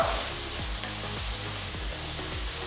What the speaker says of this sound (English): Saute the onions till they are a nice golden brown color.